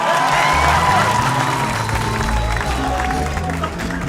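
A comedy show audience claps on request, a steady, dense wash of applause with some cheering, loud and continuous throughout.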